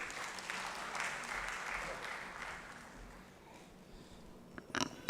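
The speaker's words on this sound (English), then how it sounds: "A big round of applause." Audience at a conference inaugural ceremony applauding with steady, moderately close clapping that slowly fades, with a few louder claps near the end.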